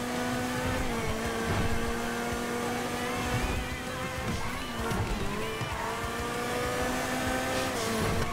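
A car in GTA 5 drives with a loud, continuous engine drone that rises and falls with revving, steady and close throughout.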